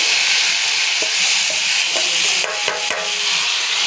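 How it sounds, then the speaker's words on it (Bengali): Potato and onion stir-frying in a pan, a loud, dense hiss of sizzling oil with a few scraping stirs of a spatula near the end. "আগে আলু আর পেঁয়াজটা দিয়ে দিলাম। আলু পেঁয়াজটা একটু নাড়াচাড়া দিয়ে"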